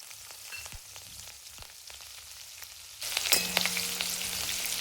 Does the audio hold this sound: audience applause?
no